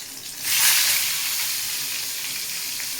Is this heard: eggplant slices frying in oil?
yes